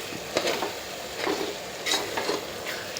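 Green chillies sizzle in hot oil as a spoon stirs them around the pan, with soft scraping strokes over a constant frying hiss, close and fairly quiet.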